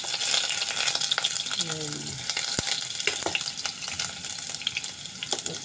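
Onion hitting hot cooking oil in a pan while a vegetable dish with tomato and okra is being made, a steady crackling sizzle with stirring, a short tonal clink and a brief voice over it.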